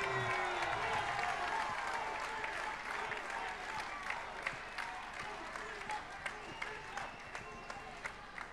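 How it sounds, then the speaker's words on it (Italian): A crowd at a political rally claps in sustained applause that holds a steady roar for several seconds, with faint cheering and scattered louder claps standing out. "fatele un grande applauso"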